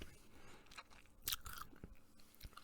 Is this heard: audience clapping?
no